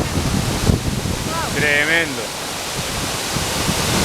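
El Limón waterfall in the Dominican Republic, overflowing with water, roars as a steady, loud wash of noise while people exclaim briefly in Spanish over it.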